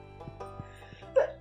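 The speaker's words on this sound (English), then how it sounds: "I had to sneeze." A single short, sharp sneeze close to the microphone, heard near the end of a moment of Stardew Valley gameplay, over soft game music.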